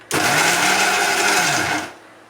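A kitchen mixer grinder whirring through a coriander and tomato chutney, one loud, close burst of steady motor whine that starts abruptly and winds down after about two seconds.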